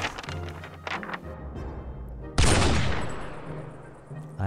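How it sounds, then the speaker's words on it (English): A sharp, loud rifle shot in the video game 60 Seconds! bursts out after some rumbling game background, then decays into a long echoing tail. "I heard gunfire."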